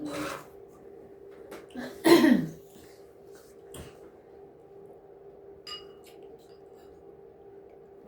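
A single harsh throat-clearing cough stands out close by, with a few fainter rasps and soft rustles scattered over a quiet humming background.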